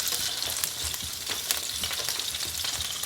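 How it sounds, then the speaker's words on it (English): Sliced button mushrooms sauté in reserved meat drippings, a dense continuous close-up sizzle with frequent crackling spatters and occasional stirring. "we're going to set that aside while we saute our mushrooms in the drippings that we have reserved here"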